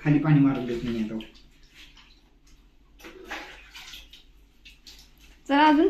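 Water splashes and pours in a bathroom while someone is bathed, coming in soft intermittent sloshes between stretches of close talking voices.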